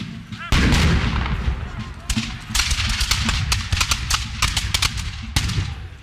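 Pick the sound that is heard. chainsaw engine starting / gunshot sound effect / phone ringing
gunshot sound effect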